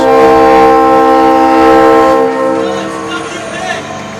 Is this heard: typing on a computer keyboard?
no